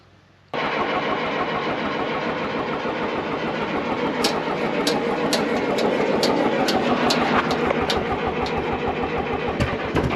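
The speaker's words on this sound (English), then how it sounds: "Oh, there it goes, man." Old John Deere bulldozer engine catching after a faint crank, then roaring loudly and steadily at close range with sharp clattering knocks over a rough, continuous idle, no voices.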